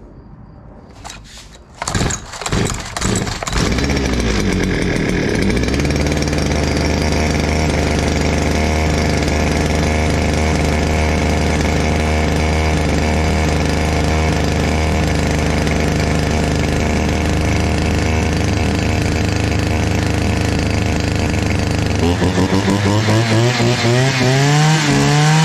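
A STIHL FS 350 brushcutter, checked over before the new season, sputters through several quick starting pops and then settles into a loud, steady two-stroke engine drone close up. Near the end the throttle is blipped higher.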